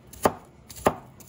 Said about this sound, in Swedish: Så jag kommer att hacka lök, vitlök